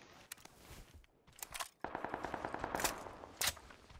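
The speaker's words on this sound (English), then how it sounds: "I'm about to get shot at." Bursts of automatic gunfire in the battle royale video game PUBG, rapid rattling shots in short volleys with a sharp crack near the end. The gunfire is fairly close and plays alone with no talk.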